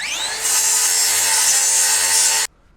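A Sawzall reciprocating saw cuts through wood on a house framing site, loud and close, revving up then buzzing steadily for about two seconds before stopping abruptly.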